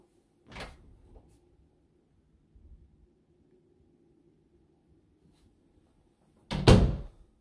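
A coat closet door in a newly built home gives a short wooden thunk as it opens, followed by quiet room tone, then a louder, sharper knock as it closes again.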